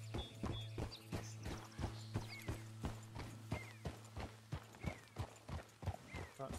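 Horses trotting in Red Dead Redemption 2, with steady, evenly spaced hoofbeats clopping close by over a constant low hum and faint background sounds.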